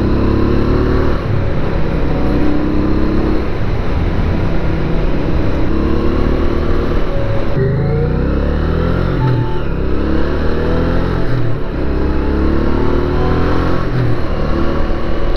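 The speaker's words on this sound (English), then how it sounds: "we are nearing the end of the ride on the Honda Ascot" A Honda Ascot VT500 motorcycle engine drones loudly and steadily under way, with a brief shift in pitch partway through, then the steady run resumes. No voices.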